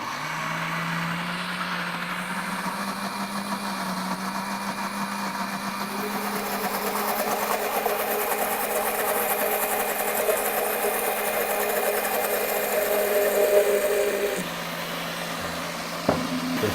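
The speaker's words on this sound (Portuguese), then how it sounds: "vou bater o pesto assim antes, até chegar no ponto que eu quero" A blender whirring as it purees pesto, a continuous close motor drone that shifts pitch and load partway through, then drops off briefly near the end.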